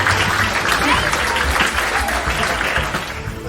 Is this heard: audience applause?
yes